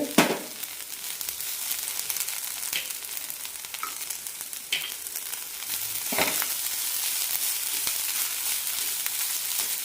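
Grated coconut and cashew nuts sautéing in a pan with green chillies for a quick onion kurma, a steady close sizzle with occasional stirring scrapes and clinks throughout, no talking.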